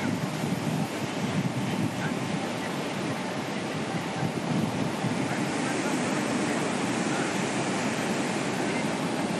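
Strong wind blows across the coast at Digha in East Medinipur as a continuous roaring buffet, with a wash of surf beneath and a faint voice under the noise.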